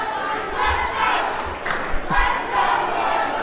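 A wrestling crowd roars and murmurs steadily through a Brian Richards vs Eagle Eye match, loud and continuous with a few sharper shouts rising from the noise.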